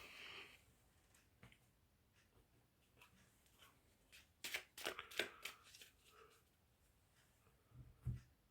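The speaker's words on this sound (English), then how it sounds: "let's shuffle all the cards with that energy and see where it leads us" Tarot cards shuffled by hand at close range, a soft quiet riffle that builds into a cluster of crisp flicks and taps near the middle, then settles with a final slap.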